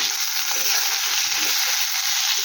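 Fish frying in hot oil in a kadai, a steady close hissing sizzle that fills the whole short stretch, with one brief soft knock near the end.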